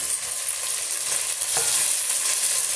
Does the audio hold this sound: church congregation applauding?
no